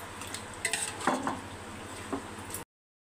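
Nutmeg powder being stirred into a dish in a pan, a few close spoon scrapes and clinks against the cookware, alone, ending abruptly.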